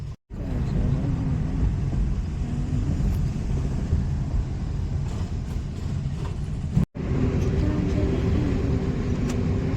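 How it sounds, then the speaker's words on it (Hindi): Heavy traffic jam in Agra, heard as a continuous low rumble of engines and road noise that is fairly loud and steady, broken by two brief dropouts. "अभी ट्रैफिक जाम है यहाँ पे बहुत ज़्यादा"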